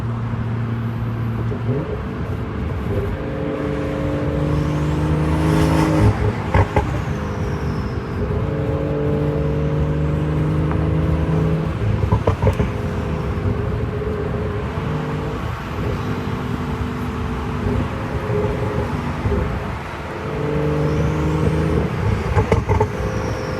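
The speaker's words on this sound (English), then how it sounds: "I love the turbo sound on this one." A stage 2 tuned B58 turbocharged six in a BMW 540i drones steadily from inside the cabin on a night drive, pulling through several rising gear runs with faint turbo whistle and whoosh over the engine note.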